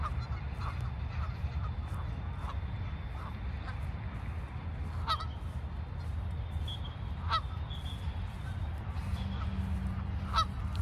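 Ducks in a park give scattered sharp honking quacks, spaced a few seconds apart, over a low outdoor rumble.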